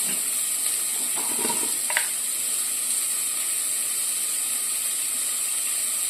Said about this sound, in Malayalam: നേരത്തെ നമ്മൾ എടുത്തു വെച്ചിരിക്കുന്ന സവാളയാണ്, അത് നമുക്ക് വഴറ്റണം.